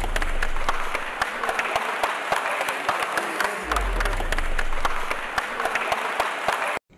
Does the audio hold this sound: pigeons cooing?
no